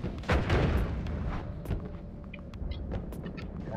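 A bomb goes off in the pixel-physics game Noita: a dense, rumbling blast with crackling debris that fills the whole moment, followed by scattered small pops and bursts.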